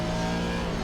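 Race car engine in a racing simulator at Zandvoort, droning steadily and loudly throughout under acceleration, with a constant mid-pitched tone and no pauses.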